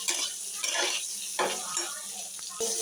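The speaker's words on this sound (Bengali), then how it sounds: "এখন আমি ডিমটা ভেজে নেব।" An egg fries in a pan for a Bengali dish with pointed gourd and hilsa, giving a steady close sizzle broken by a few utensil scrapes and clinks, with no talking.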